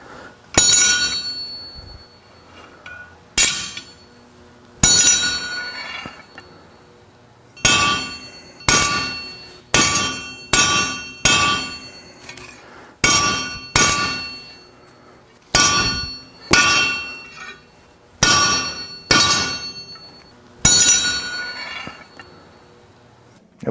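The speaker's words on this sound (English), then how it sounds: "That's a damn heavy hammer. It's supposed to be, because this is a heavy stainless, see?" A heavy hammer pounds a curved sheet of heavy stainless steel, giving about fifteen loud, ringing metallic clangs at a steady, deliberate pace, each decaying between blows, with no talk.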